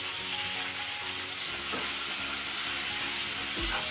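Cut okra with turmeric and salt frying in a pan, a steady close sizzle throughout with a few soft stirring scrapes, no talk.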